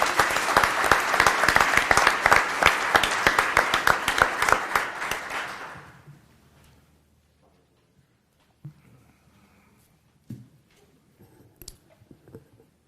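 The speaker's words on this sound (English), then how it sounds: "One more round of applause, please," Loud audience applause for students at a school board meeting, dense clapping for about six seconds before fading out, followed by quiet room noise and a few scattered knocks.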